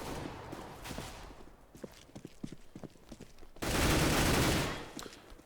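Pistol gunfire from a CS:GO match on the map Train, scattered sharp shots crackling through the first half, then a loud sustained burst of noise near the end.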